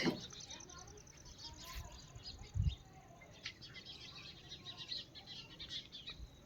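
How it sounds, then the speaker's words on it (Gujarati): Small birds chirp faintly in short bursts over steady outdoor background noise, with a few brief louder knocks. "ચકલા બોલે છે"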